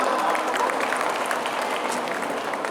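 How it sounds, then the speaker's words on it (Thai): Steady, dense audience applause greets guests stepping onto the stage at a K-pop cover dance festival awards ceremony in Thailand, filling the whole stretch evenly. "ขอเสียงปรบมือด้วยครับ"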